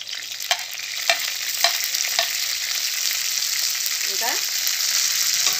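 Green chillies fry in a pan with a steady sizzle, a spatula stirring in regular scraping strokes; a brief voice speaks.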